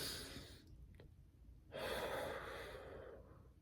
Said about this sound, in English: I breathe in through my nose, breathe out, relax